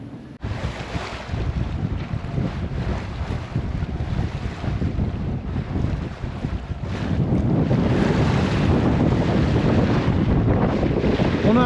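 A sailboat on a solo Mediterranean crossing, out at sea, with steady wind buffeting the microphone over the continuous rush of waves against the hull, growing louder and rougher partway through, with no voices.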